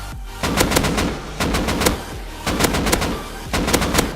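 AK rifle with a 4x scope in a video game, firing four sharp three-shot bursts at a steady rhythm with short pauses between them, loud and close, with no talk.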